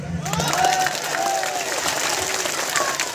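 Audience clapping at a political speech, a steady dense patter of many hands held for about three seconds with the crowd noise continuous throughout.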